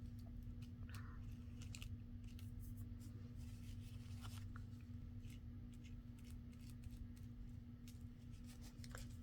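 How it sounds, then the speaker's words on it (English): Scissors trim the corner of a paper envelope, a quiet run of small snips and crisp cutting clicks scattered over a low steady background hum. "Then I'll just trim that off. Trim that little corner."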